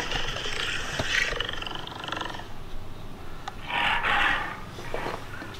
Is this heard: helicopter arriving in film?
no